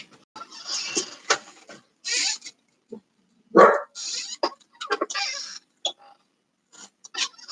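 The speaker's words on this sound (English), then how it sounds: "He's going to go bark at the plants in the garden." A part-dachshund dog barking in short sharp bursts, several barks and yelps spaced irregularly, close and loud against a quiet indoor background.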